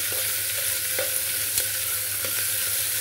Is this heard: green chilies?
yes